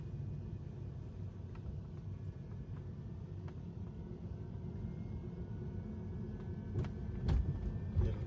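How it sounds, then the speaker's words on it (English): Tesla car on Full Self Driving rolling through a parking lot, a steady low road rumble and tire noise heard from inside the cabin with a few louder bumps near the end. "A little too fast driving in the parking lot."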